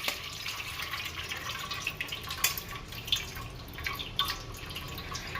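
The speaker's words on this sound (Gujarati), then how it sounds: "દાળનું આપણે પાણી કાઢી નાખશું" Soaking water drains off soaked lentils in a kitchen, a steady trickling and dripping of water with small splashes, fairly close and continuous, with no talk.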